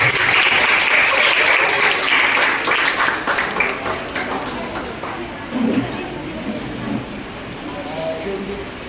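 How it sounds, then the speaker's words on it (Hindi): At a school event, an audience of students and teachers claps loudly and continuously. A voice speaks over the applause, which thins slightly in the second half but keeps going. "आद्या का तालियों के साथ स्वागत करिए।"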